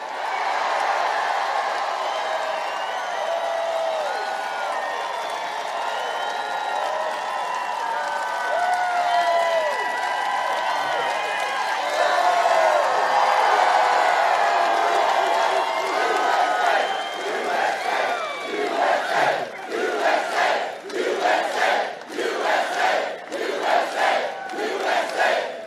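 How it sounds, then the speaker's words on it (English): A large outdoor campaign-rally crowd in Winston-Salem, North Carolina roars, cheers and chants steadily, swelling midway and breaking into rhythmic clapping near the end, with no voice over it. "Especially when you have a crowd like this."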